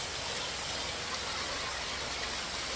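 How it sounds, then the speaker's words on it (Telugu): Dense, steady hiss of heavy rain pouring down in Chandragiri, Odisha, even and unbroken from start to finish, with no voices. "మామూలు పడట్లేదు వర్షం అయితే"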